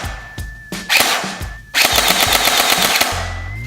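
A gel ball blaster with blowback bolt fires in rapid bursts, a fast mechanical rattle of shots close up, a short burst and then a longer sustained string, alone without talk.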